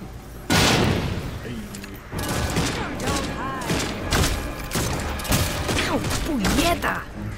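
Pistol shots ring out in the shooter Redfall, a loud crack opening the stretch followed by scattered further shots and mechanical handling noises, with a voice talking briefly.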